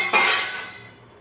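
A plate clinks once while food is served at home, a single bright knock that rings and fades over about a second, with no talk.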